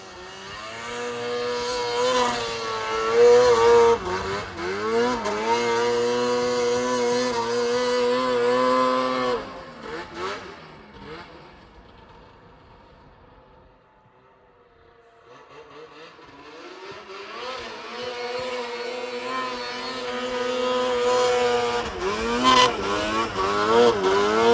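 Arctic Cat snowmobile engine revving outdoors in the mountains, a loud droning roar with rising and falling pitch that fades away into near silence, then swells back up as the machine returns.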